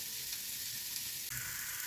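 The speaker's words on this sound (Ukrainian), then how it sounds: "Овочі смажаться." Steady, close sizzling of food frying in a hot pan, a continuous hiss with a brief shift midway as the contents settle.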